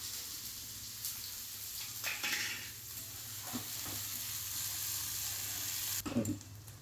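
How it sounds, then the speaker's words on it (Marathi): Chopped onion fries in a spoonful of hot oil for a malai cauliflower dish, giving a steady close sizzle with a few scraping stirs and clinks, no talking. "आपण आधी कांदा भाजून घेऊ"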